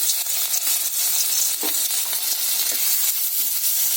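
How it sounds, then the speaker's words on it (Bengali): Continuous bright sizzling of garlic and ginger frying in hot oil, close and steady, with a few soft stirring knocks. "আদা আর রসুন এগুলো তেলে ভেজে নেব"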